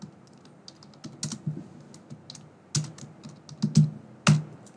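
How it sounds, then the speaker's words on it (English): Someone types a name on a computer keyboard in quick, irregular bursts of close, crisp keystrokes over a quiet background. "so let me type my name."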